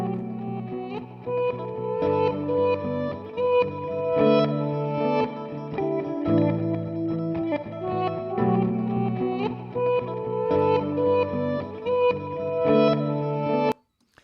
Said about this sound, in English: So this is the sample or the loop that I had without it being double time.